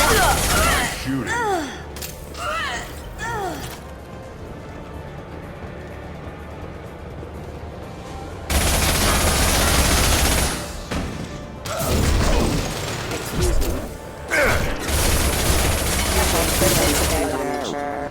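Mass Effect 2 gameplay holds rapid bursts of video-game gunfire, with clustered shots and impacts in several loud stretches, mixed with voices and effects.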